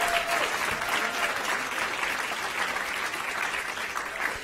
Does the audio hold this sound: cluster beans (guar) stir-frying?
no